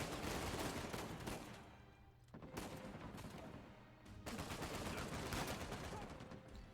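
Rapid, sustained gunfire in the video game Uncharted 4, loud and dense bursts of shots with a brief lull before the firefight resumes.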